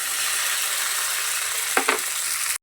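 Ground spice paste of mustard seed and poppy seed hits hot mustard oil tempered with nigella seeds, giving a steady loud sizzle with two brief bursts near the end as the paste lands.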